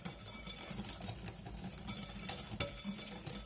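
Whipped cream (chantilly) with sugar is mixed in a bowl, giving a quiet, continuous swishing and stirring with faint clinks of the utensil against the bowl, no talking.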